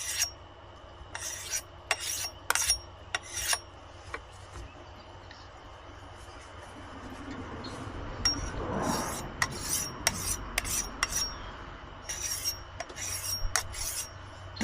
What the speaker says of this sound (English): Tune it up a little bit with the fine diamond.